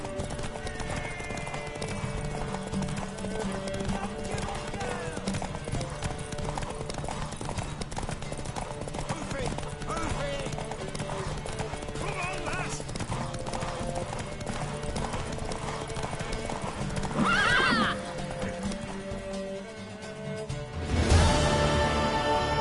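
Galloping hooves clatter rhythmically over steady background music in The Witcher 3, and a horse gives a loud whinny near the end.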